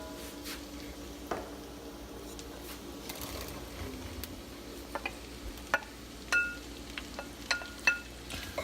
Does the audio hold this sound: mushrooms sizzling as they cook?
yes